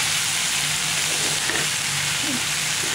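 Gongura leaves and potatoes sizzle steadily in a frying pan while being stirred, giving a constant close hiss with soft scraping touches throughout.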